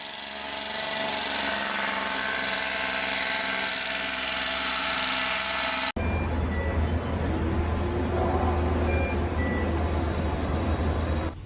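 A timber truck pulls into a South Carolina sawmill, its engine droning loudly before an abrupt cut to a rumbling idle with faint, repeated reversing beeps over a low engine hum.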